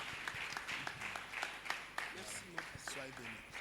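A church congregation applauds to welcome an evangelist to the pulpit, a sustained patter of many hands with sharper claps poking through, voices mixed in underneath.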